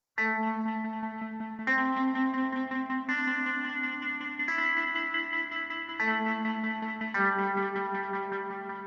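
Sampled Mellotron M4000D rock guitar tones ring out as six sustained chords in sequence, each entering crisply and holding with a washed reverb tail, played alone without speech.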